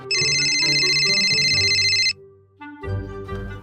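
A phone ringtone chimes loudly and steadily in a repeating electronic pattern for about two seconds and then stops, after which low room sounds and a brief voice-like murmur follow.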